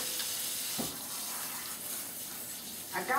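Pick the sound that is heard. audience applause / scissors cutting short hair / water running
water running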